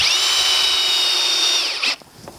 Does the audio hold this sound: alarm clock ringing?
no